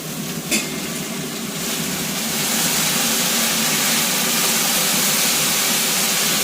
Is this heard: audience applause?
no